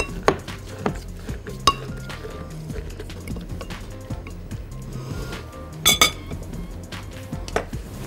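Strawberries and sugar pressed with a muddler in a glass for a strawberry mojito, giving soft repeated knocks and scattered clinks against the glass, close and fairly quiet, with no talking.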